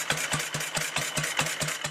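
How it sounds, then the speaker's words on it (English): A Panther sloper motorcycle engine with massive internal flywheels idles at very low RPM, a slow, even train of distinct combustion thumps that can almost be counted, steady and close with a slight mechanical rattle. "It spins so slowly at idle that you can almost count the combustion strokes."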